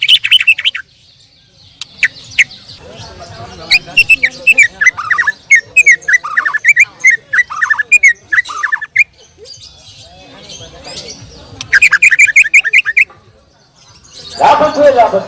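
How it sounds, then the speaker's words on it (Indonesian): White-rumped shama (murai batu) song, a loud, close run of rapid varied whistles, chirps and trills in bursts separated by brief pauses, with a few voices faintly in the background. "Murai batu A"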